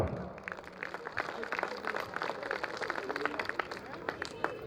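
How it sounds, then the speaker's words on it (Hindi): Applause from an audience at a large Hindu gathering, dense irregular clapping spread across the whole stretch at moderate level, with speech mixed in underneath. "एक बार जोरदार तालियां पुनः।"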